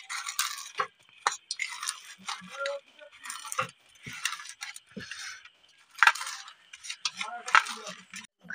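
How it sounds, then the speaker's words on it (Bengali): Fried chillies are crushed into powder for a pickle, with irregular close taps, scrapes and grinding clinks in short separated bursts against a quiet background, no talking. "লঙ্কাটা মুলে নিলাম, গুঁড়ো করে নিতে হবে একটু।"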